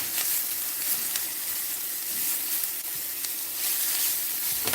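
Flash stir fry of greens sizzling in a hot pan, a steady bright crackling hiss that runs close and even throughout with no talk.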